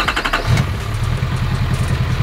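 A GMC Sierra Denali L5P Duramax diesel pickup with a 5-inch exhaust cranks briefly, then catches and settles into a loud, close, rumbling idle.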